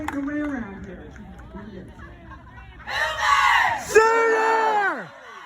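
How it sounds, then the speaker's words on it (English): At an Oklahoma Sooners softball national championship celebration in 2021, a crowd roars into a loud, sustained 'Boomer Sooner' chant that swells in midway, after a stretch of one person talking over murmuring. "we want to stand up and applaud you with our famous Boomer Sooner"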